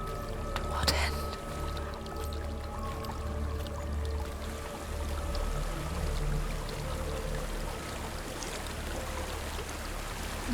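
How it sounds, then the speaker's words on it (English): A waterfall in the Norse setting of Hellblade: Senua's Sacrifice, a steady rushing wash of water that holds through the whole stretch, with a voice speaking over it. "There's a waterfall."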